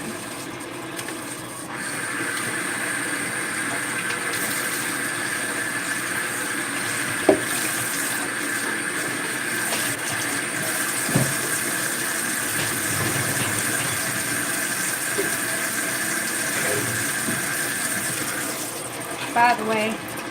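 A kitchen tap runs steadily into a sink while dishes are washed, a continuous close rush of water with occasional clinks and knocks of dishware.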